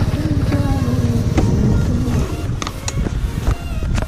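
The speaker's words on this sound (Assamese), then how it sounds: "বঢ়িয়া লাগি আছে ইয়ামাহাৰ FZ ভাৰ্চন 3 মজা লাগিছে গাড়ীখন চলাই" A Yamaha FZ version 3 naked motorcycle with single-channel ABS rides along with a steady, close engine drone and rushing wind, its note rising and falling slightly as it moves.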